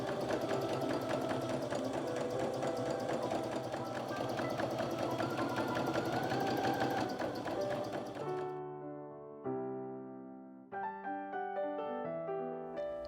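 A sewing machine runs steadily at its longest 5 mm stitch, sewing long gathering rows on maxi dress fabric, then stops as a tonal ringing sound carries on alone in the final seconds.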